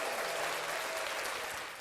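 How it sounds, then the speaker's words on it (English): A short burst of audience applause, a crowd clapping together at full strength for under two seconds before starting to fade. "Once again, round of applause."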